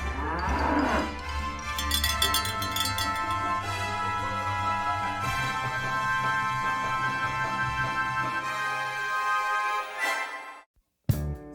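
Cattle at a livestock market in Samarinda, East Kalimantan, low and drawn out, a long sustained moo that fills most of the stretch before cutting off abruptly near the end.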